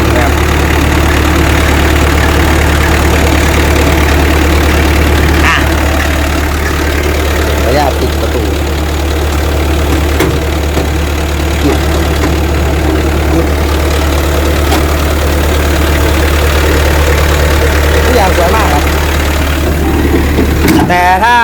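A Komatsu PC120-8 excavator's heavy diesel engine idles steadily and loudly close by, with a constant low rumble and clattering knock that runs without a break throughout.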